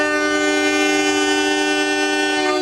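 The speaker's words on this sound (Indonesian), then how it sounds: "Semuanya siap, waktunya kereta diberangkatkan." A locomotive departing with its train sounds a long, loud, steady horn close by that holds unbroken throughout.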